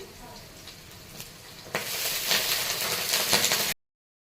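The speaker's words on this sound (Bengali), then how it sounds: "কাঁচা লঙ্কা একটু ফ্রাই করে এতে অ্যাড করতে, আর সঙ্গে আমি কিছু কারি পাতাও অ্যাড করে দিচ্ছি" Green chilies and curry leaves hit hot oil in a pan, starting with a faint quiet stretch, then bursting into a loud, steady crackling sizzle that keeps going for about two seconds before cutting off abruptly.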